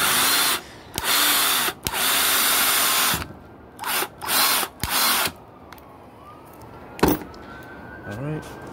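A Black & Decker 18V Firestorm cordless drill whirs in several loud bursts, revving up and stopping repeatedly as it drives a large screw, with a pause and a sharp click between runs.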